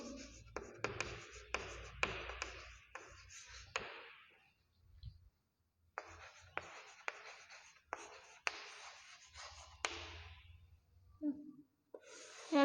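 Pen or pencil writing numbers on paper, close and quiet: bursts of short scratchy strokes with taps between them, a pause in the middle, then more strokes, with no talk.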